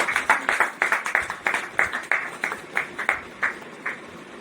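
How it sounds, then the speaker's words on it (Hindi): Rhythmic clapping from a small audience at an indoor poetry gathering in Lucknow, with distinct, evenly spaced claps in a steady beat that gradually thin and slow toward the end, heard alone without talk. "तालियां होनी चाहिए।"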